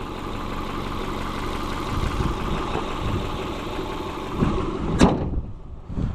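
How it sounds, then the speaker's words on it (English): A 2003 Subaru Impreza Wagon engine idles with a steady low rumble, close by, ending with a sharp thump near the end. "Here's the engine."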